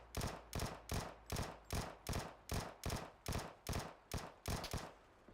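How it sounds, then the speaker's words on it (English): Gunfire in PUBG, a regular burst of about eleven loud shots at an even rhythm, close and alone with no talking. "Who's shooting me? Wait, who's shooting me right now?"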